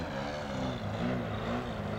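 A DA120 gas engine on an Edge 540 model aircraft runs steadily with a throaty propeller drone, its pitch rising and falling slightly as the throttle shifts.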